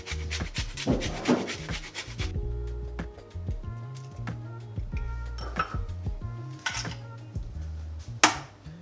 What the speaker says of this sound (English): So I've also got this orange, and I'm going to use some orange zest inside the flavor.